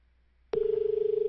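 A telephone in a text-based video game sounds with a sudden steady electronic tone that starts abruptly after brief quiet and holds with a slight pulsing warble, clean and synthetic.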